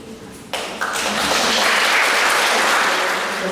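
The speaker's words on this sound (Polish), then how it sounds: "naprawdę duże brawa dla wszystkich osób, które wzięły udział w przygotowaniu tego kursu" After a few sharp claps, a room full of people breaks into loud, sustained applause for the course organizers, a dense even clatter of hands that holds steady for several seconds.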